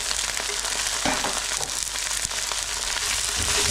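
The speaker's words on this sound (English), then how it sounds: "And I'm just going to stir fry these very nice and wilted." Pak choy stir frying in a hot pan, a steady loud sizzle running the whole time with faint scraping and stirring knocks, no voices.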